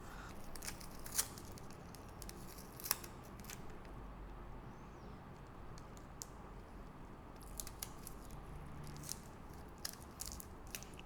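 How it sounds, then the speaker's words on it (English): Paper scraps being taped together give soft, scattered crinkles, rustles and small tape snips, close and quiet, with no one talking. "I'm just gonna tape it now."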